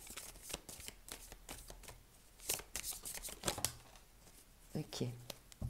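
Tarot cards are shuffled and slid out one at a time, making close papery riffles and flicks in uneven bursts, with louder slaps near the middle and end, while someone speaks French quietly over them.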